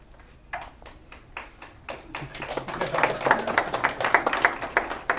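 Scattered hand claps start sparse, then build into steady, fairly close applause from a small audience at a graduation ceremony.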